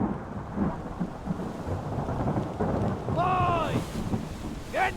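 Rumbling thunder and steady rain of an approaching sea storm aboard a ship in Return of the Obra Dinn, low continuous roar with wind, interrupted by faint shouting voices and a short wailing cry near the end.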